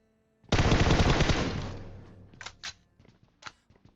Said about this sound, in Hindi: पुरानी गने चला रहा हूं